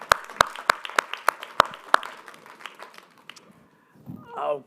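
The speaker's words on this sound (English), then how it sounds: "Another round of applause for Serene, Eli," Scattered clapping from an audience at a corporate capital markets day for the presenters, a handful of sharp, close claps in loose rhythm that quickly thin out, followed by a short spoken voice.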